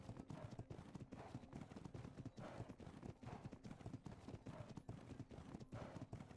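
Hooves of a spotted horse clip-clop in a steady rhythm in a western roleplay video game, close and moderately loud, with no talking over them.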